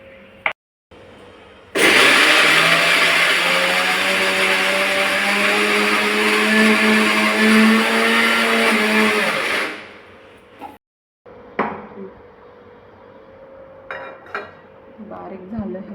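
A kitchen mixer grinder runs loud and close, grinding moong dal in one sustained roaring whir of about eight seconds that winds down abruptly, followed by quieter handling clatter.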